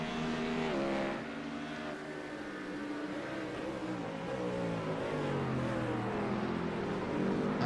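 Race car engines in the sim racing game iRacing at Sebring, including a Ferrari 296, whine and rise and fall in pitch as cars run the circuit, heard fairly faint and steady with no talk.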